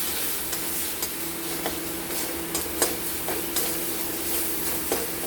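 Ground cumin and spices with a splash of water are stirred and sautéed in a kadai for a vegetarian mung dal with banana stem, giving a steady sizzle broken by light scraping and clicking stirs.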